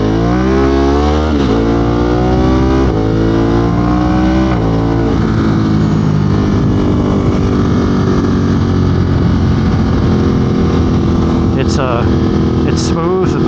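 Loud, close engine of a 2022 Ducati Monster motorcycle running at steady highway speed on an interstate, with rising gear-change sweeps early on, then a sustained droning roar with wind rush throughout.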